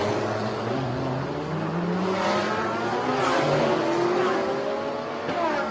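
An Audi GT3 race car in a Thailand Super Series race drives on the circuit, its engine droning loud and steady as revs climb and fall through several gears, with faint tire noise beneath.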